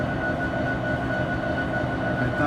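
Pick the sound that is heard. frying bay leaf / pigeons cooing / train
train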